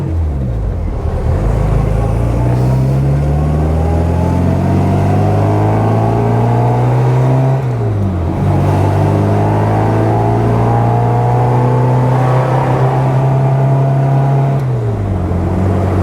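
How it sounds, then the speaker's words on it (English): A 1960 Bugeye Sprite's small engine revs loudly and repeatedly, pitch climbing and falling in long sweeps toward about 4,600 RPM, close and continuous with no talk. "these little engines, when they sound great, it's kind of a 950 horsepower noise"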